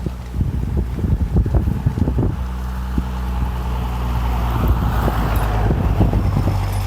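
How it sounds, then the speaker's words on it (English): Outdoor northeast breeze at a controlled burn site, loud buffeting wind rumble across the microphone with gusts building toward the end, no speech. "we got a good breeze"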